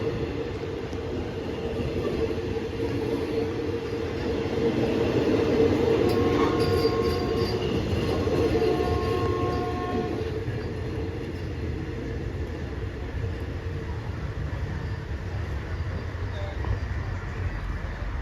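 A GEK 4005 locomotive hauls Daewoo second-class air-conditioned passenger cars past Samsen station, a steady loud rumble of rolling stock with a brief horn-like tone midway, no talking.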